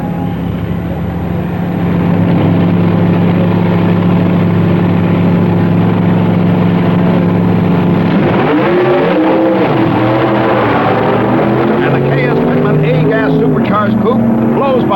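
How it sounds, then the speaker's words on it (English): A supercharged B-Gas class drag racing coupe roars past at a 1965 drag strip, a loud sustained engine drone that swells and shifts pitch as it blows by, with a voice talking over it. "Supercharged coupe blows by another Stone, Woods, and Cook entry for the class honor"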